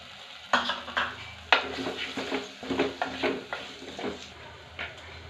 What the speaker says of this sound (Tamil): மசாலா ஃப்ரை ஆகிட்டு இருக்குது.